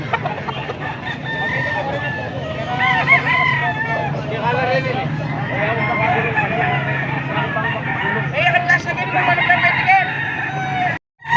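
Young roosters (stags) crow repeatedly at a Pampanga gamefowl farm, several overlapping cock-a-doodle-doos rising loud and close over steady clucking and background fowl, with people talking throughout.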